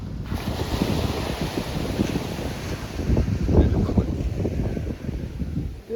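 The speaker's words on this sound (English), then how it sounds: "Just hearing those waves lashing against the shore." Ocean waves wash against the shore at a sunny seaside in Icacos, a steady broad rush of surf with rising swells, mixed with wind noise on the microphone and no talking.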